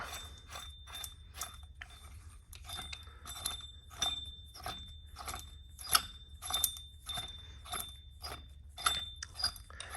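Harmonic balancer removal tool being screwed onto its adapter on an LSA engine, a steady run of quiet metallic ratcheting clicks in quick repeated bursts, close and alone without talk.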